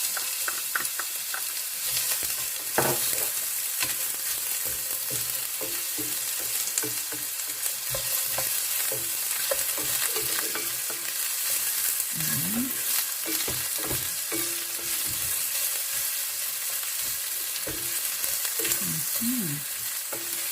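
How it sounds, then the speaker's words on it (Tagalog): Onions sizzle steadily in a hot oil pan for a home-style Filipino ginisang sayote with ground meat, a continuous close frying hiss with occasional scrapes and stirs of a utensil. "So, mainit na. So, lagay ko na ang aking sibuyas."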